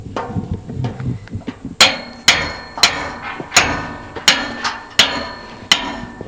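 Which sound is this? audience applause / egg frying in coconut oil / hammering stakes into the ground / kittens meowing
hammering stakes into the ground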